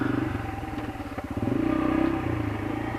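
A Yamaha TT-R125LE dirt bike ridden around a backyard, its small single-cylinder engine putting steadily and close by with a brief rev partway through, no voices.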